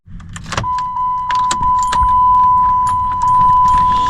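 A key jangles and turns in the stuck ignition of a 2006 Dodge Magnum that will not go all the way to start, with close metallic clicks and rattles over a steady hum and a constant electronic warning tone.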